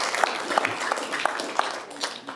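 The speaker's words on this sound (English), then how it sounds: "I just ask if you can not clap in between" Applause from the public gallery at a special council meeting of the City of Wanneroo, a moderately loud round of clapping with a few distinct sharp hand claps standing out, fading slightly toward the end.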